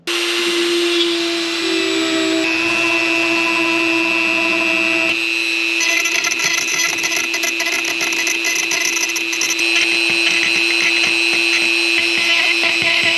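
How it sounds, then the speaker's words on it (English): A power tool whines continuously at high speed, its pitch shifting as it drills holes and cuts switch openings in a plastic boat bow plate, loud and close throughout. "we're gonna drill the holes and cut out the areas for the switches"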